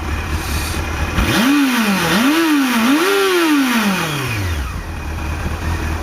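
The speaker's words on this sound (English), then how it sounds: "apparently it does have an inline 4 engine, but it sounds completely different to the Ninja" A Honda CBF600 inline-four motorcycle engine revs up close in three rising and falling blips over a steady idle, then winds back down to a smooth idle.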